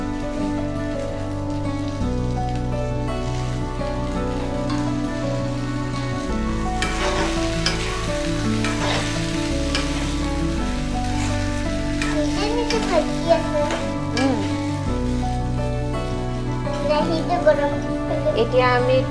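Potatoes sizzling in a pan for a Nepali pea, potato and sesame seed chutney, a steady frying hiss heard over sustained background music with some stirring.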